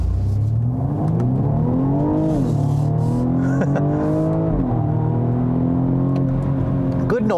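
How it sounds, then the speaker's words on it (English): A 2020 BMW M235i Gran Coupe engine revs repeatedly in sport mode, pitch rising and falling in a loud steady drone, with sharp exhaust crackle near the end; someone talks over it. "I like the pops and crackles from the exhaust"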